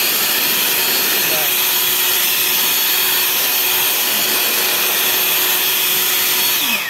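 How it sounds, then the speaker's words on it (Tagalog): An electric blower blowing dust roars continuously at full power, a loud, even rushing whine with a faint steady tone and no pauses. "So napaka-useful po niya pag meron kayong ganitong klaseng blower"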